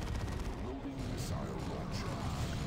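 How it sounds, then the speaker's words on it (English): Autocannon fire crackles in a Dawn of War 2: Retribution battle, with rapid bursts of shots mixed into dense combat noise while a commentator talks over it. "Auto cannon, good damage versus all targets and a small AoE."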